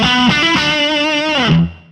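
A heavily distorted electric guitar plays a sustained, sliding metal riff through a power metal preset on a BOSS GT-1 multi-effects unit, with thick, saturated tone, ringing out loud before cutting off abruptly.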